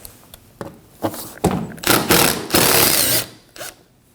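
Power screwdriver backing screws out of a car's underbody panel on a 2015-2024 Ford Edge, with short bursts of whirring and rattling that build into a longer, louder run, then a final brief burst.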